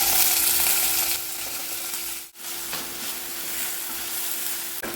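Chopped green chili, ginger, garlic and onions sautéing in hot oil in a pan, a loud, steady close sizzle with brief stirring scrapes and one short dip partway through.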